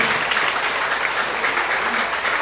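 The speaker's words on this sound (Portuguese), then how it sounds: "Vamos aplaudir o Senhor Jesus pela obra que Ele fez" Loud, dense applause from a church congregation at a pastoral ordination service, continuous clapping close and steady throughout.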